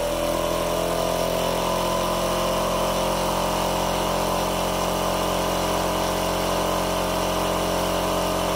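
Experimental magnet motor spinning at about 400 RPM, a loud, steady mechanical whir with a continuous hum and no change in pitch, close by and uninterrupted.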